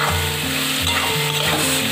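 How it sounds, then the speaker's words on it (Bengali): Potatoes with turmeric, chopped onion and green chilli sizzle and crackle steadily in a hot pan, close up and loud, with stirring scrapes breaking through the constant frying hiss. "সেরকম পেঁয়াজ আর কাঁচা লঙ্কা আলু একসাথে এটাকে ভালো করে ভেজে নিতে হবে আগে"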